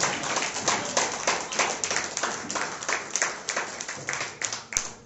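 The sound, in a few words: congregation clapping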